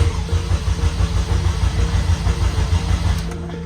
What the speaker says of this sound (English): let's start the car up and see if it works then.